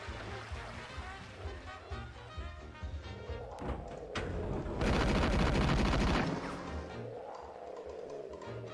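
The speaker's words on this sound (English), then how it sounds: "I'm gonna shoot you." Game gunfire in Destiny, with bursts of shots building to a dense, loud volley mid-way and then easing off, set against a busy mix of in-game sound.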